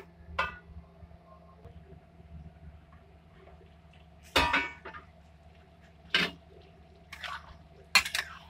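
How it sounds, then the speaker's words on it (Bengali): A lid settles onto a cooking pot of rui fish head and rice, a few scattered close clinks and clatters of metal cookware over a low steady hum, with no talking. "ঢাকা দিয়ে"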